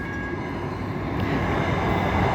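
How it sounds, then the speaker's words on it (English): A train rolls close by near a junction railway station in India, a loud steady rumble of wheels and cars that swells slightly toward the end, with no voices. "This is the train again."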